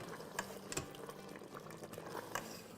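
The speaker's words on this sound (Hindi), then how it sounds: "अब हम इसकी भुनाई कर लेते हैं" Mutton for namkeen gosht cooks in a pot, sautéed until its juices come out, giving a faint bubbling sizzle with soft irregular pops and spatters.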